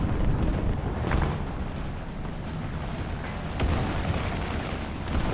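A Jumbo tank fires its cannon in the War Thunder video game, heavy booming blasts with rumbling low-end impacts, one around the first second and another later, over continuous battlefield rumble.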